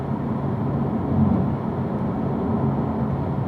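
A car accelerating hard on a race track, throttle held open up through the gears to fourth, a steady loud engine rumble with a slight swell partway through.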